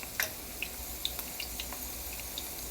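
Onions frying in oil, a soft steady sizzle with faint crackles and pops throughout.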